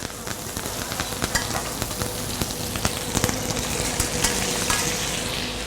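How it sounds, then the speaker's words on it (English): Steaks sizzling and spitting in a hot pan with garlic and herbs while being basted, a dense steady crackle with sharp pops throughout and no talk. "So we're just going to baste over our steaks here."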